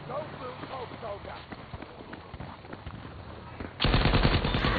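Rapid bursts of light-machine-gun fire in a shooter video game, sharp repeated cracks through most of the stretch, then a louder sustained burst of automatic fire closing it out.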